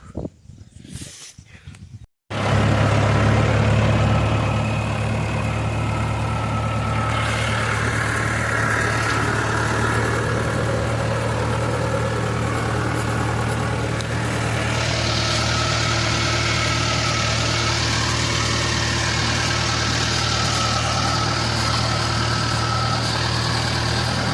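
A tractor engine idling outdoors, a steady low mechanical drone with constant rumble that starts abruptly after a few seconds of rustling and holds evenly throughout, near and loud.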